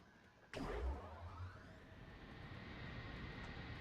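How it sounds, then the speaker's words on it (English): Airship engines start up in the video game Worlds Adrift with a sudden whoosh, then settle into a steady droning hum that holds at moderate volume. "those engines make such a cool noise when they turn on"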